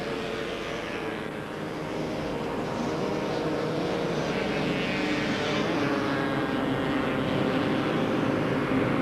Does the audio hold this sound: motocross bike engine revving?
yes